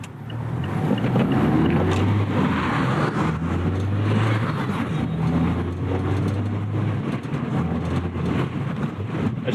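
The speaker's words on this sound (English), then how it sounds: "That's just a regular rev match." A manual car on the street at speed, its engine humming under heavy road and wind noise, with brief rises in revs during a rev-matched downshift; steady and fairly loud, no talking.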